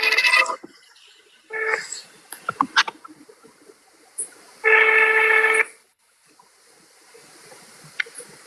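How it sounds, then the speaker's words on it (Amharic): A telephone gives several separate electronic tone bursts during dialing, short and then longer beeps with quiet gaps, heard close and clear. "ስልክ እየደወልኩ ነው"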